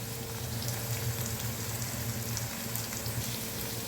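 Tempering spices fry in a pan for a leafy greens (thotakura) curry, a steady close crackle and sizzle that carries on without a break and without talk.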